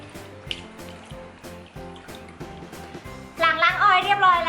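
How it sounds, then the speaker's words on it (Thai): Water splashes as a face is rinsed with clean water after a cleansing oil, starting as faint drips over a rhythmic music background, then swelling into louder splashing near the end. "ก็ทำการล้างออกด้วยน้ำสะอาดค่ะ"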